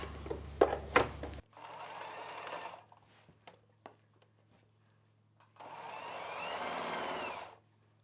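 A sewing machine stitches satin lining for a lehenga in two sustained bursts of rapid, whirring needle action, heard close, with a few light clicks and handling sounds in the quiet gap between the runs.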